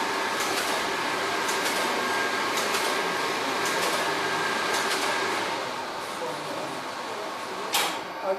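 Rebuilt Bombe codebreaking machine running at Bletchley Park: a dense, continuous mechanical whir and clatter with faint rhythmic ticks, steady and fairly loud, easing slightly toward the end before a sharp clack.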